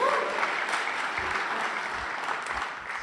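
A church congregation claps together during a Sunday service, a steady dense wash of applause from many hands filling the room for about three seconds, with no talking over it.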